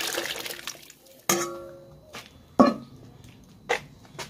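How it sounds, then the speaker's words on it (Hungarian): Water with boiled potatoes is poured into a goulash cauldron, heard as a few short splashy pours and liquid slops with clinks of metal in between, close and fairly loud, with no talking. "én ezt tiszta vízzel együtt öntöm már bele"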